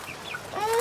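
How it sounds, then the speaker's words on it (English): Chickens cluck close by in a brief, loud burst of rising, throaty calls with no talking over them. "Whoa, chickens."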